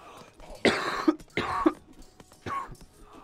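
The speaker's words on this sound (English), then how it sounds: "every time I breathe in, I have to cough." A person coughs in three separate harsh bursts spaced about a second apart, fairly close and loud, with throat-clearing quality and no talk, during a gaming session.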